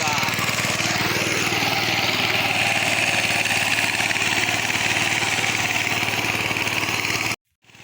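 A tractor's engine chugs steadily nearby with a rapid, even throb, running loud and unchanging before cutting off abruptly near the end.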